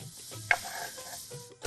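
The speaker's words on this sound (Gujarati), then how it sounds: "હવે એની અંદર આપણે કાચા કેળા એડ કરી દઈશું." Raw green bananas go into a frying paste of turmeric and asafoetida, giving a soft sizzle with a couple of short stirring scrapes, one sharper clatter near the end.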